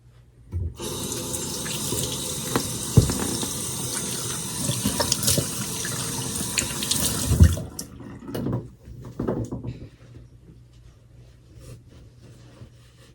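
Water runs steadily from a bathroom sink faucet for about seven seconds, close and fairly loud, then stops, followed by scattered splashes and drips as hands wet a face.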